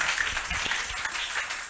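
A church congregation claps together in a dense, steady wash of applause that fills the room, continuous and moderately loud with no voices standing out.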